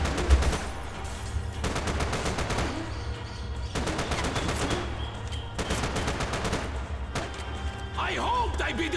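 Bursts of gunfire from the video game Max Payne 3, repeated volleys of rapid shots in clusters across the stretch, loud and close over a constant rumbling game background.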